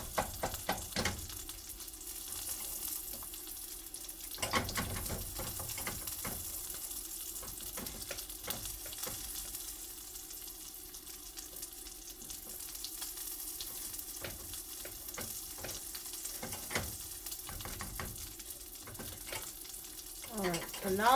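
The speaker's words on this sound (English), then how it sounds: "now the eggs are starting to cook really well" Scrambled eggs fry and sizzle in a pan on a stovetop, a steady broadband crackle with scraping and stirring clicks throughout and brief tap-water bursts, close and moderately loud.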